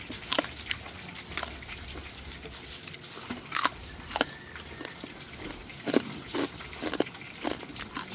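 Crisp crunching bites and chewing of freshly fried chicharon, sharp irregular cracks heard close against a faint background.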